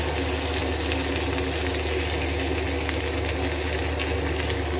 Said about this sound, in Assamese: মই এইখিনি ভাজি থাকিম অলপ সময় যেতিয়ালৈকে মছলাটোৱে তেল এৰি নিদিয়ে